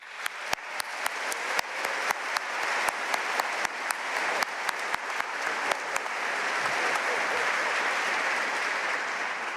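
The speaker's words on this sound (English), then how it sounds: "I want you all to give yourselves a round of applause" Graduation audience at the Duke Executive MBA and MSQM ceremony claps for themselves, starting with sharp separate claps that quickly swell into dense, steady applause from a large crowd.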